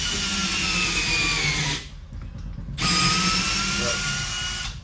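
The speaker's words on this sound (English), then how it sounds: "So I'm pre-drilling that." A power drill whines loudly and steadily as it pre-drills wood during a floor-discharge toilet repair, pausing briefly for about a second before starting up again.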